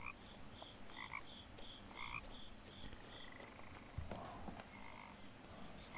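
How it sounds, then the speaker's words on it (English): Frogs croaking in the What Remains of Edith Finch video game, repeated chirpy croaks overlapping in an irregular chorus, fairly faint, over a soft ambient background without talking. "There's lots of frogs, that's for sure."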